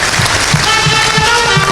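Audience applause at a formal Togolese association ceremony honoring a minister of higher education and research: a dense, steady wash of many hands clapping with soft low thumps, continuous and fairly loud for the whole stretch.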